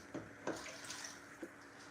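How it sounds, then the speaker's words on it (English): One liter of water poured into a cooking pot for yam pottage in a home kitchen, a soft hissing stream with a few faint splashy bumps, quiet and close, no talking. "So I'll be adding 1 liter of water."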